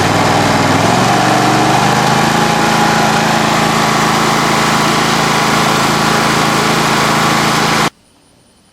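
A John Deere SST18 riding mower engine runs close by, its steady drone rising in pitch as the throttle opens in the first second, then holding loud and even before cutting off abruptly near the end.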